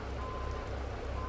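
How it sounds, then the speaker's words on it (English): Steady, dense rain hissing over a truck in American Truck Simulator, constant patter with a low engine drone underneath, no voices. "I can't see anything, raining on my mirrors."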